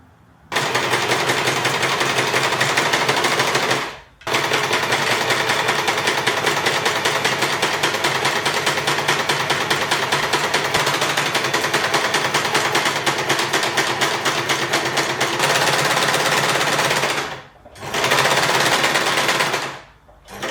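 An electric sewing machine stitches fabric in long, loud, rapid mechanical runs, stopping briefly twice before starting again, close up with no talk.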